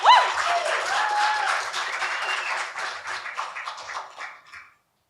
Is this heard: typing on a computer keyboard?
no